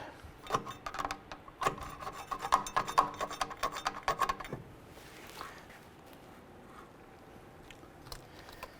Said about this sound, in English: Grab that rotor, wiggle it back and forth, slide it on and off.